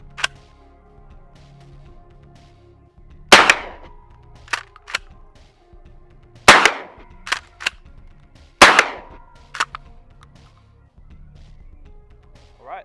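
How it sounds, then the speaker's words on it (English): Three loud 12 gauge one-ounce slug blasts from a Kel-Tec shotgun striking AR500 steel armor plate, each sharp crack followed by smaller metallic rings and clanks, spaced a few seconds apart outdoors. "That was 3 rounds of 1 ounce slugs out of a 12 gauge Kel-Tec"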